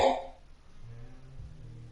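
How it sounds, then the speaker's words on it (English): A man with a persistent cough lets out one sharp, loud cough close by, then a low throaty rumble and a quieter follow-up as it fades. "my dad just has like a problem with his cough"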